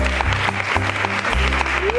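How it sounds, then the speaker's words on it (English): Applause from an audience at a Barcelona hackathon event rises and holds steadily across the whole moment, a dense wash of clapping with a low hum beneath. "give them an applause as well"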